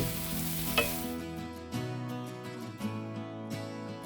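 Baby spinach from a bag wilts in a pot with a steady sizzle and hiss, stirred now and then with soft thumps, close by with no voices.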